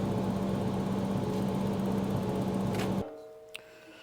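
Bobcat 542B skid steer loader, suffering throttle governor trouble, idles high with a steady droning engine hum close by. The hum then cuts off abruptly and leaves near silence with a single faint click.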